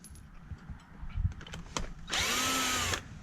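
A power tool whirs close and loud for about a second while removing bolts from the CVT cover of a GY6 scooter, following softer handling clicks and knocks.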